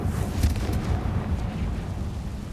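Confringo fire spell burning away spider webs in Hogwarts Legacy on PS4: a loud, sustained rushing, rumbling blast of flame that swells early and then holds steady to the end, with no talking.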